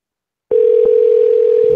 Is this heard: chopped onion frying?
no